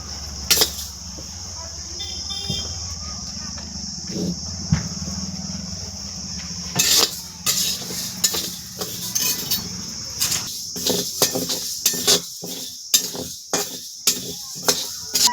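Moong dal being dry-roasted in a pan for homemade masala, with sharp clinks and scraping of a utensil against the metal pan growing into a quick irregular rhythm, and a voice heard faintly early on.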